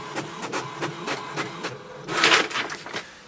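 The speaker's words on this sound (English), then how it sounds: "Now it will send a command to print the printer information page." An HP Tango X printer prints its information page, giving rhythmic mechanical clicks and whirring pulses with a louder feed burst near the end, close and clear with no talk.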